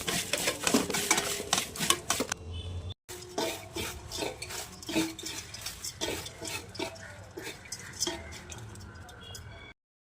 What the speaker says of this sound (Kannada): ಈಗ ಅವಲಕ್ಕಿ ಹಾಕಿ ಕಲಸುವ.